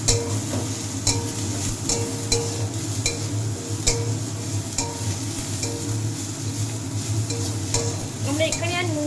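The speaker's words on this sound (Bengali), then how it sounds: "পেঁয়াজটা একটু ভাজা ভাজা হবে।" Chopped onion fries and is stirred in a pan, a steady close sizzle with frequent sharp scrapes and clinks of a utensil against the metal and no voices.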